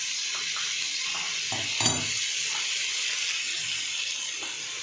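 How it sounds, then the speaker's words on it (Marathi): Val bean pods sizzling in a pan over high heat with coriander, stirred with a steady hiss and a brief clatter of utensil against the pan midway, nobody speaking. "हे बघा, अशी आता छान अशी हलवून घ्यायची।"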